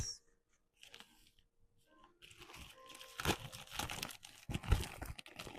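Crinkling and tearing of paper wrapping as a mailed book package is opened with small nail scissors, close and fairly loud in bursts of rustling with sharp crunches, quiet at first and busier over the last few seconds.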